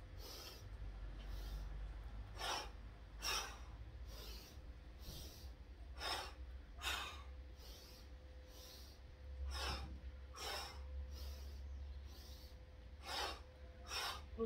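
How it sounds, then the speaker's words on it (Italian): Repeated forceful breaths in a warrior breathing exercise during a yoga session, about a dozen sharp nasal snorts and gasps in an uneven rhythm, close and fairly loud over a low steady hum, with no talking. "Anche in questo caso respirazione intensa, guerriera."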